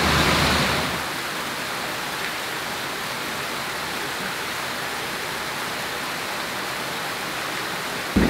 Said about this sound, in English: This is the sacred spring overflow.